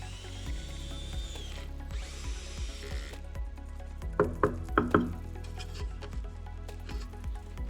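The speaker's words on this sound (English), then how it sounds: "then I just hit it with the drill to finish it off" A power drill drives bolts into aluminum coolant line guards under a Tesla Model Y, with two short whirring bursts followed by ratcheting clicks and a few metallic knocks.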